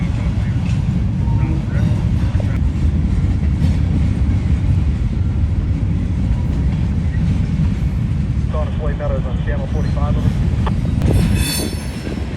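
A long freight train rolls slowly past on tracks in the Cincinnati area, a loud continuous rumble of wagons with wheels squealing and clicking, plus a brief high horn-like tone near the end.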